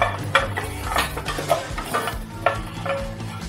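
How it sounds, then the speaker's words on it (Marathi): Mustard seeds roasting in a pan for a sweet-and-spicy ambat-god pickle crackle and pop in sharp, scattered bursts over a low sizzle, close and moderately loud with light stirring and no talking. "आता ही आपली राई भाजून झालेली आहे, हे बघा तडतडायला लागलेली आहे"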